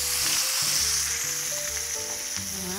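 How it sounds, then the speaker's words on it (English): Loud, steady sizzling of steaks searing in hot oil, with a constant bright hiss filling the pan and no voices. "A little oil in our pan, nice and hot. And in our steaks go."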